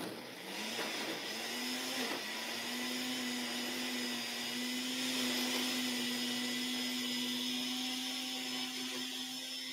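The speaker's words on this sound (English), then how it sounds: "tear them up to put them into the blender." A kitchen blender runs steadily, grinding torn slices of bread into crumbs, producing a continuous loud motor whine that holds constant for the whole stretch with no talking.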